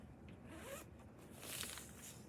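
A zipper on a bag is pulled in two quiet, quick rasping strokes with a short pause between them, close by and faint.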